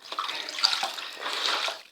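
Running water splashes steadily as a greasy, dirty hat is washed by hand, a continuous close spray and slosh with small irregular bursts, no voices.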